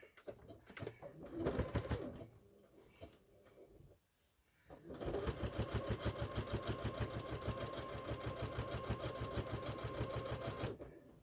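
A sewing machine stitches back down a seam on a handmade Christmas present, running in a steady rapid rhythm close by after a brief pause and a few short starts.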